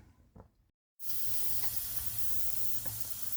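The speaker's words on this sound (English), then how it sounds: "as you can see in here, that's boiling nicely" The boiler of a Retrol SE-02 model steam engine boils vigorously, giving a loud, steady, close hiss and sizzle that begins abruptly after a short silence and carries on unbroken.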